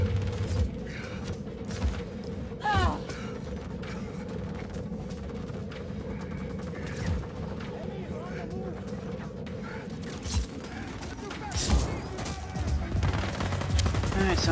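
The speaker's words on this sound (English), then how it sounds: "people in close proximity just shooting" Close gunfire bursts and scattered shots from enemies nearby in the video game Just Cause 4, with mechanical clanks and booms, heard under someone talking.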